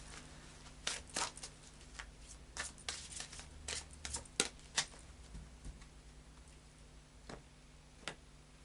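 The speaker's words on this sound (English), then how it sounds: "So I'll just do a final shuffle of the Fairy Oracle cards by Brian Froud." Oracle cards (Brian Froud's Faery Oracle deck) are shuffled in quick, crisp bursts of riffling and tapping, close and quiet, with short pauses between.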